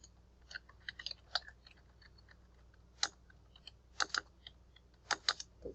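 Quiet, close computer keyboard typing in short irregular bursts of clicky keystrokes separated by pauses, with no voices.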